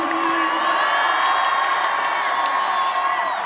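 A large concert crowd at the Zénith in Toulouse cheers, whoops and shouts continuously, a dense loud roar filling the hall with high-pitched screams throughout.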